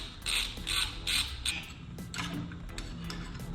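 Metal creaking and clicking from a brake caliper pin being worked out on a Honda VTX motorcycle during a brake pad change, with several sharp bursts near the start, then softer scattered ticks and scrapes.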